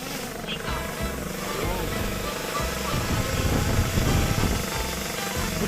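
DJI Lito X1 drone lifting off outdoors, its propellers whirring in a steady, loud buzz that swells slightly as it climbs, with wind noise and a voice speaking briefly over it.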